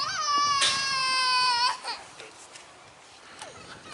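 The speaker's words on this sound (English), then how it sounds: "In the background you can hear a child is crying in near the playground area" A child wails loudly and close by at a cricket ground's playground area, a sustained high sob lasting under two seconds, then fading into quieter whimpers against open outdoor ambience.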